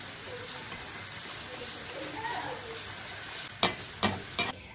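Bolani paratha, a flatbread with chives, fries in oil in a pan with a faint, steady sizzle, followed by three sharp knocks or taps near the end.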